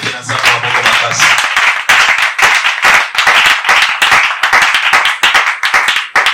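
Congregation at a church gathering clapping loudly and steadily in a dense, continuous burst of applause, close and full, with a brief voice at the start.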